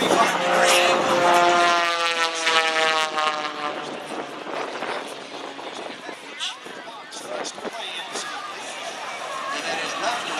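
An aerobatic propeller plane performing at an airshow in Batavia, New York, its engine note climbing in pitch for several seconds, then turning into a rougher, broadband roar. It is heard loud at a distance, with a voice over it.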